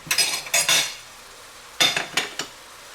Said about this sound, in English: Okay, so we'll stir that in.